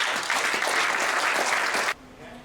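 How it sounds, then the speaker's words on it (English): A conference audience in Torquay applauds in a steady, dense round of clapping that stops abruptly near the two-second mark, leaving a quiet room. "Give yourselves a round of applause."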